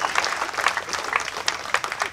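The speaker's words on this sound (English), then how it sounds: "Ladies and gentlemen, give another round of applause to Siti Kasim." Audience applause at a rally opposing a religious-law bill, steady, dense clapping from a crowd lasting throughout, fairly close and loud with scattered sharper claps.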